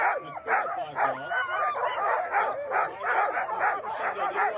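Sled dogs barking and yipping excitedly at the start line of the Kuskokwim 300 sled dog race in Alaska, a dense, continuous chorus of many overlapping barks close by.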